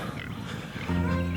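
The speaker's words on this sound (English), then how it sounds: "Enough playing with the pigs." Pigs on a small farm give close, loud grunts and a drawn-out oink that overlap in a short burst.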